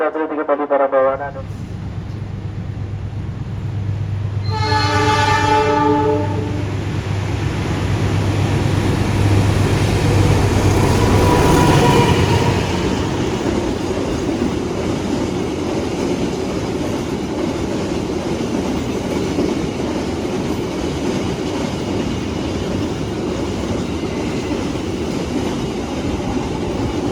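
The Bogowonto economy passenger train runs near Bumiayu station in Indonesia, its steady, loud rumble and rhythmic wheel clatter swelling and then holding for nearly half a minute, with a chime and a public-address announcement heard over it early on.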